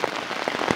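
Rain falls outdoors in the wilderness among trees, a dense, soft patter of drops on surfaces with a few closer, sharper splashes, heard alone.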